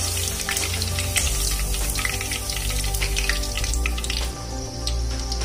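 Vegetables, including beans, frying in hot oil for veg dum biryani, a dense continuous sizzle and crackle held at an even, close, moderately loud level throughout, with no voices.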